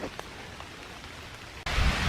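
Rain falls on leaves in Iroquois Park on a dark October morning, a steady hiss of drops that abruptly swells into a much louder, dense downpour for the final half second.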